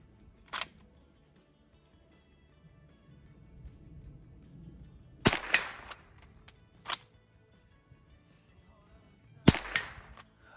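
Sharp, dry cracks of a custom-built .22 rifle fired offhand at steel targets, with several isolated shots spread over about ten seconds, some followed by a quick second report, against a quiet background.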